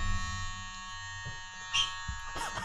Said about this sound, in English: This is called the whiteboard buzzer.